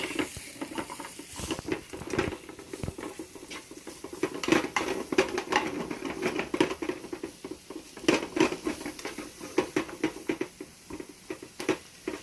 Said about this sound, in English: I'm going to go ahead and stir that up a bit.